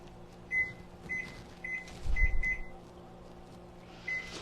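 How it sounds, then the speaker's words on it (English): An oven timer is set in a home kitchen while a hot pepper queso dip bakes. Six short, high, fairly faint beeps sound at uneven intervals over a low appliance hum, with a soft thump in the middle. "I'll set the timer for 10"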